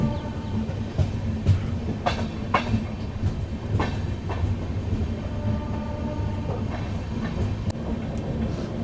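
A Kaifiyaat Express passenger train rolls slowly through heavy fog on the route from Delhi to Azamgarh, with a steady low rumble of wheels and a few faint clicks and squeals over the track.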